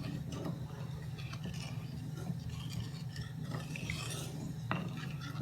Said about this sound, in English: Now mix well.